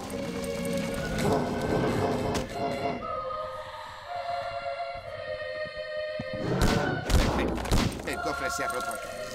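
Rapid bursts of gunfire in the video game Obscure crackle in the foreground, with busy game sounds and music running underneath.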